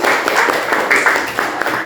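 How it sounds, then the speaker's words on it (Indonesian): A class of students claps for a presenting group, a steady patter of applause filling the room for about two seconds without a break. "tepuk tangan untuk kelompok 2."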